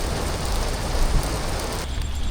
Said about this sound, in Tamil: அப்படியே மழை குறைஞ்சிருச்சு. லைட்டாக தூருது